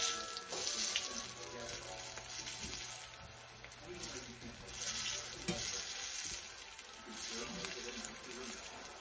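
A breaded egg fries in a pan with a steady, moderate sizzle and crackle that swells and eases a few times, with some faint clatter and possible running water in the background; no clear words.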